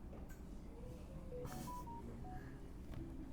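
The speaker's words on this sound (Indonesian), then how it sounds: "Tadi ini notifikasi HP gede banget ya." A mobile phone notification sounds during an indoor computer-networking lab session: a short run of clear electronic beeping tones over a steady low background hum, with no speech.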